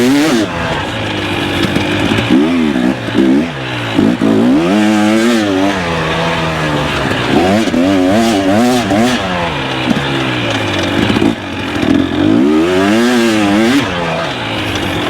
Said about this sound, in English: It's just so awkward riding this bike over here right now.